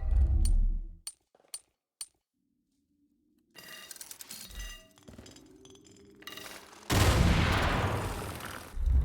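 A grenade blast in the video game Far Cry 5: a few sharp gunshot cracks and a quiet pause, then a loud, broad explosion roars up near the end and rumbles on.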